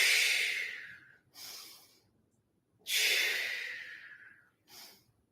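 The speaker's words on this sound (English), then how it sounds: "Breathe in, breathe out," Two slow breath cycles during a light Pilates exercise, each a long breathy inhale followed by a shorter exhale, close and soft, with pauses of near-silence between them.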